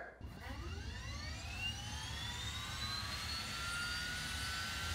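A motor-driven gyroscope spins up, its whine rising steadily in pitch like a jet engine spooling, with several ascending tonal layers over a constant low hum, close and fairly even in loudness.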